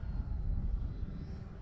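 E-flite Clipped Wing Cub RC airplane in flight, its electric motor and propeller giving a steady, loud droning buzz throughout, with no talking.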